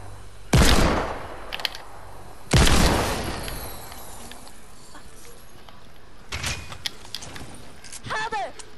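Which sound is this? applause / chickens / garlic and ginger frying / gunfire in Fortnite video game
gunfire in Fortnite video game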